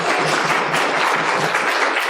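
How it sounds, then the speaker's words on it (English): Steady applause from a workshop audience greeting a presenter, loud and continuous throughout with no break or speech over it. "Round of applause."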